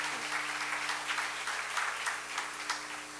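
Soft, steady clapping from an audience at a church seminar, fairly distant and even, with a faint hum underneath.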